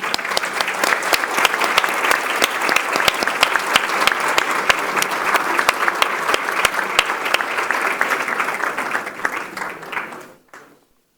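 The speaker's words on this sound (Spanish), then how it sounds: "Le damos un caluroso aplauso." A conference audience at a finance panel on banking and climate change gives the finance minister a warm welcome, sustained dense clapping lasting about ten seconds before cutting off abruptly.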